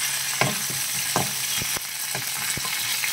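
Curry leaves and mustard seeds crackle and sizzle in hot oil in a kadai while making onion chutney, a steady frying hiss broken by several sharp pops and spits, close up with no voices.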